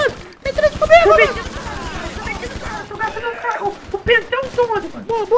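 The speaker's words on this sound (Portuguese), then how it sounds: "Tô atirando aqui." Gunfire from the video game GTA V comes as rapid bursts of shots, heard loud and close throughout. Someone talks excitedly over the shooting.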